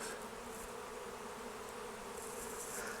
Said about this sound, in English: So all these bees will continue to cluster up here.